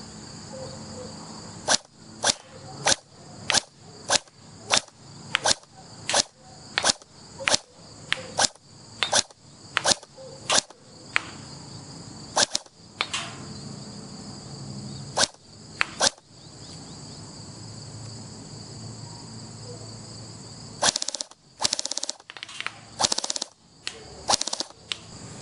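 A Magpul ACR Masada PTS airsoft electric gun fires a long string of sharp single shots in quick rhythm, pauses, then resumes with a few shots and a short burst near the end, close and loud with no talking.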